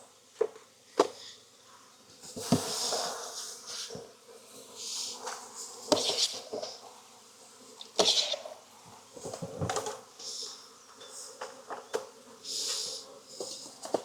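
Swarms of honey bees buzz loudly and unevenly while being scooped and shaken into mating nucs, the hum rising and falling, with sharp knocks and clatters from equipment being handled.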